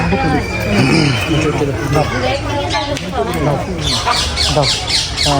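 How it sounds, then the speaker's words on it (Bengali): Small parrots squawk repeatedly at Chittagong Zoo, shrill calls that grow into a rapid run of squawks toward the end, set against steady crowd chatter and voices. "এদিকে অনেকগুলো আছে টিয়ে পাখি ছোটো ছোটো পাখি"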